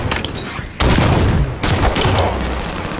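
Gunfire and explosions from a Halo multiplayer match fill the mix, with loud sustained bursts and booms layered continuously over the whole stretch, dense and close.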